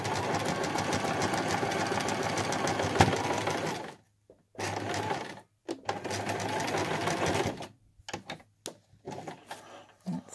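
A sewing machine stitches a quilted scissor case in steady close-up whirring runs, then stops and starts in several short bursts separated by brief silences.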